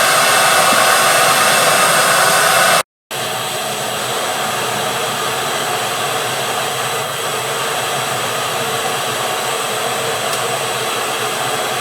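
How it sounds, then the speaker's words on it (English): A shop vacuum runs continuously while cleaning up sawdust in a woodworking shop during a farm table build, a steady loud whoosh that cuts out briefly near the start and then resumes. "just kind of vacuum up this mess for a minute"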